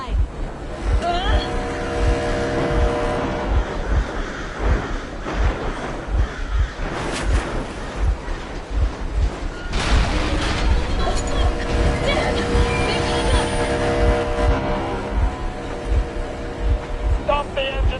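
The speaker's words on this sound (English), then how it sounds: "Stop the engine immediately and come out with your hands above your head." A vehicle engine in the video game Metro Exodus drones steadily with a low, rhythmic thumping pulse throughout, mixed with other game sounds and voices.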